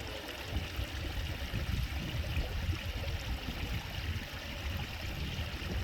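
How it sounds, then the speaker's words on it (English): Stream water in the UK flows steadily from higher ground, a continuous close rushing and trickling with no talking. "very nice to listen the sound of the water."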